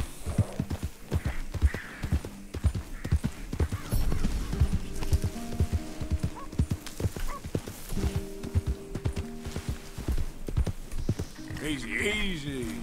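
Horse hooves clip-clop in a steady galloping rhythm while riding in Red Dead Redemption 2, with a whinny and in-game music underneath and someone talking over it.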